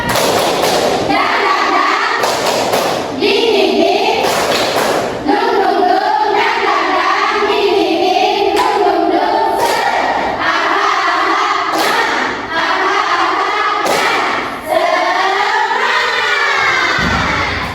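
Students in a classroom stand and perform a rhythmic spirit clap, repeated bursts of patterned clapping and thumps punctuated by loud chanted shouts in unison, close and energetic.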